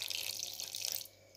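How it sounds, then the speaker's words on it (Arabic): Orange blossom water is poured into briouat filling in a thin continuous trickling stream for about a second, then stops, with a faint splash after; close and quiet, no talking. "وهنا تنديروا ماء الزهر"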